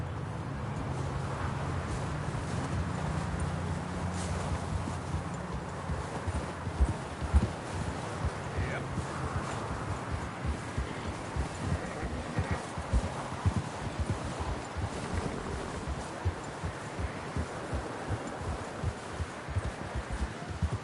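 A horse's hooves clip-clop steadily on the ground while it is ridden in Red Dead Redemption 2. The even, continuous rhythm runs throughout over a low rustling background.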